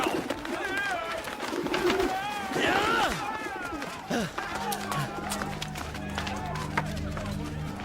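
Pigeons coo and flutter in a temple courtyard where doves are sold, mixed with running footsteps, crowd commotion and voices nearby, with a low steady hum underneath later on.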